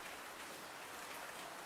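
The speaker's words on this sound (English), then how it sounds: "Dia loves the sound of rain where she's indoors, especially a drum of water on metal." Steady rain drums on a metal surface in the indie video game Butterfly Soup 2, a soft, even hiss of many drops continuing alone without pause.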